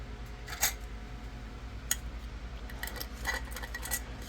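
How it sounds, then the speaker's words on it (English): A metal lid set onto a glass canning jar of barbecue hot dogs, giving a couple of sharp, close clinks with a faint low hum behind them. "Put the lid on."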